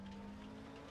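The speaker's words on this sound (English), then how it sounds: "can hear tire screeches and engine slightly better now" Engine drone and tire noise from a car on a short track in the RaceRoom VR racing game, a steady faint hum and whine with no talking.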